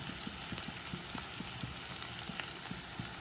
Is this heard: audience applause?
no